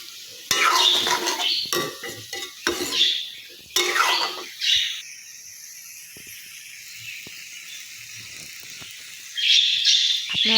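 Cauliflower and potatoes sautéed with salt, turmeric and chili powder in a pan, heard as bursts of scraping stirring over a steady soft sizzle, with quieter gaps in between and a renewed stir near the end.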